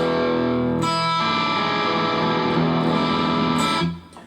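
A heavily distorted electric guitar plays sustained, ringing chords with an edgy bite, steady and loud, then cuts off abruptly near the end.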